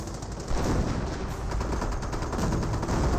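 Hummel artillery fire pounds infantry squads in Company of Heroes, a dense continuous roar of gunfire and shell impacts with overlapping bursts, loud and sustained.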